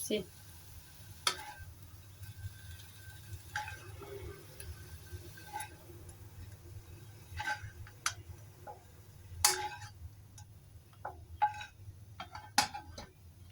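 Eggplant stir-fries in a pan, with a low steady sizzle under sharp scattered clicks and scrapes of a spatula against the pan, fairly quiet and close.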